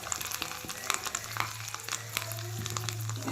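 Tempering of dried red chillies, curry leaves and asafoetida frying in ghee for tomato pepper rasam, a brief sharp sizzle with crackles and a steady hum beneath.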